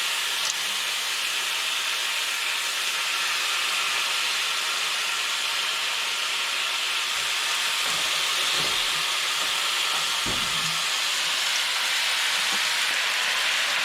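Marinated Filipino chicken adobo pieces fry in a hot pan, giving a steady broadband sizzling hiss throughout, with a few louder spits and crackles near the end.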